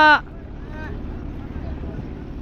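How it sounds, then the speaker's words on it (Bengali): A boat pulls in on Kaptai lake in a low, steady engine rumble with wind noise; a voice is heard briefly at the start. "আমার বোট চলে আসছে মামা বোট নিয়ে আসলো"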